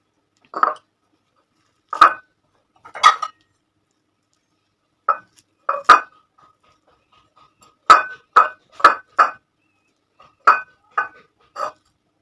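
Spoon or utensil clinking against a plate while mashed vegetable is mixed with mustard oil for a Bengali bhorta, a series of short, clear taps in irregular bursts with pauses, close and alone without talk.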